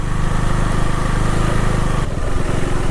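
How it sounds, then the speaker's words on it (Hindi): A motorcycle in off-road mode creeps slowly over a rough, debris-strewn mountain road in the Arunachal jungle, its engine chugging loud and close in a steady low rumble, with a brief jolt near the end. "अब इस पर मैंने ऑफ रोड मोड में लगा लिया बाइक, आराम आराम से निकालते हैं।"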